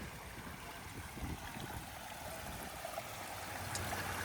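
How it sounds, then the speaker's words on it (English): A large backyard pondless waterfall flows steadily, a soft continuous rush and gurgle of water at low level with no other sounds. "this is a large pondless waterfall"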